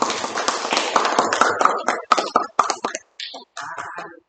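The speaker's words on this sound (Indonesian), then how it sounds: "Oke, tepuk tangan" Schoolchildren in a classroom clap their hands together in a loud, fast burst that breaks into shorter rounds of clapping, ending in a few scattered claps.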